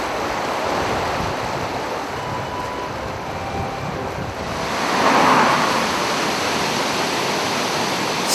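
Snowmelt water in the Sierra Nevada of Yosemite rushes down valleys and over rocks in a loud, unbroken roar that swells slightly partway through.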